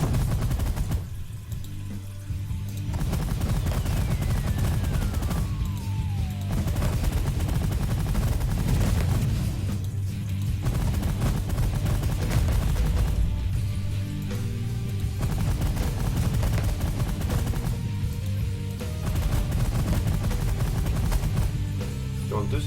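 Ships firing weapons in the space strategy video game The Last Federation: a dense, unbroken barrage of rapid blasts and bursts that stays loud throughout, with soft pulsing lulls in the background.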